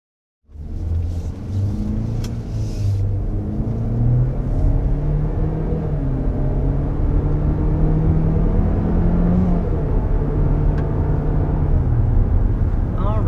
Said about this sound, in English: And there we are up to 55 with this GMC Terrain.